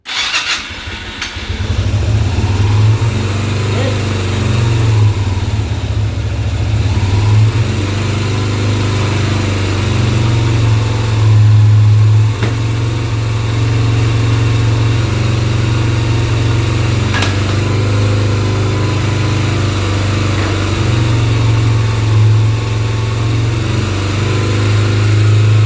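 A Yamaha 125 Virago motorcycle engine cranks and catches, then settles into a steady, loud, close throbbing idle that runs on unbroken for many seconds.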